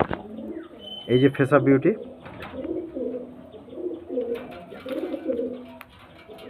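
Mada pigeons shown for sale coo softly under a voice as he talks over them, with a brief burst of louder bird calls near the start.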